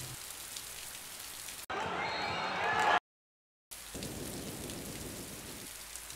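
Heavy storm rain pours down steadily, loud and close, with a sharp burst of louder downpour or a thunder crack before it cuts to silence and then resumes.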